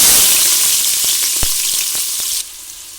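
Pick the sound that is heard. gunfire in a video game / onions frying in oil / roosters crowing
onions frying in oil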